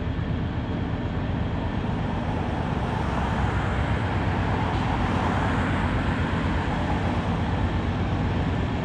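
Loaded coal train passing in Kenova, West Virginia, a constant dense rumble of rolling freight cars with steady wheel clatter, close and unbroken for the whole stretch.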